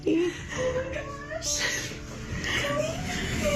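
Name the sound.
cat meowing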